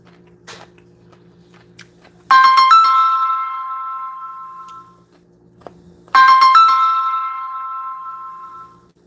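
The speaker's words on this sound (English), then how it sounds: "my fucking stream got screwed up through a fucking phone call" A phone rings with an incoming call, sounding as a loud electronic chime. Two clear rings a few seconds apart each start sharply and fade slowly, over a quiet room background.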